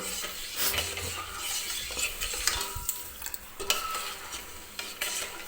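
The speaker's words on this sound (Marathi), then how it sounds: "आता मी एका चमच्याने ही साखर हलवून घेते बघा" Metal spoon stirring sugar and water into syrup in a pan, with repeated scraping and clinking against the vessel, close up and quiet, and no talking.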